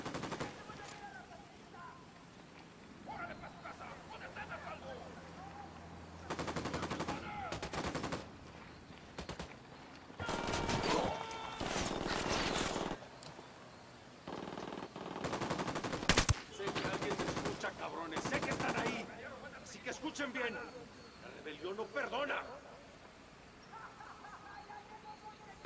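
Bursts of automatic gunfire ring out in the video game Ghost Recon Wildlands, rapid loud volleys in irregular clusters separated by quieter stretches of ambient game sound.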